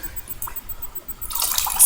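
Water is squeezed out of a paintbrush that has just been washed clean of soap, giving soft dripping and then a brief wet trickling splash at the end, close and fairly quiet.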